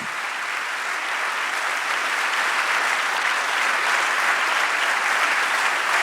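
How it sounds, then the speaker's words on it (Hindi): A church congregation gives loud, sustained applause during a collective prayer service. Dense, even clapping from many hands continues at full strength with no pauses. "यीशु के नाम के लिए जोरदार ताली।"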